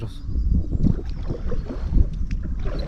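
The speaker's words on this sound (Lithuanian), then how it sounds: "Tiesiai pučia į mus. Plaukiam prieš vėją." A strong headwind buffets the microphone on a river while a homemade boat is rowed against it, giving a continuous rough rumble with gusty swells and faint water splashes, and no voices.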